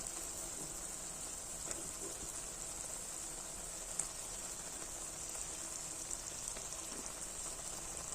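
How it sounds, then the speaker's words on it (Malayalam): Fish pieces fry in oil in a pan with tomato, giving a steady, even hiss and sizzle with scattered small pops, held at a quiet, unbroken level throughout. "ഇനി നമുക്ക് മീൻ കഷ്ണങ്ങൾ വറക്കിടാം കേട്ടോ"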